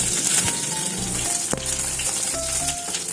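Whole garam masala spices, bay leaf and dried red chilli crackle in hot oil and ghee, a dense continuous sizzle close up with a brief sharp pop midway.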